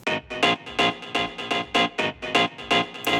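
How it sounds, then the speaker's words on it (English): Energy Stab sample played in a Kontakt sampler, a steady train of short punchy synth stabs in a quick even rhythm, bright and loud with no voice. "I found, I think it's Energy Stab."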